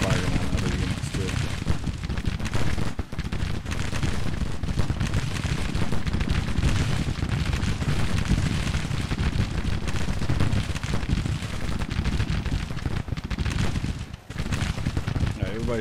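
Musket volleys in a GTCW battle from a video game, dense rolling gunfire crackling continuously and loudly with rumbling blasts mixed through.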